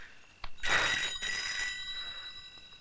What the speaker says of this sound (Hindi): आ गया तेरे बाप का फोन। जा उठा, देख मत, उठा।